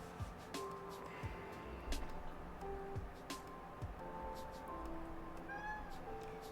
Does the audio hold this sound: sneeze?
no